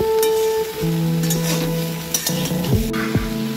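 Salted vegetables are stirred and tossed in a cooking pan with a gentle, close sizzle and scraping, over a steady background hum.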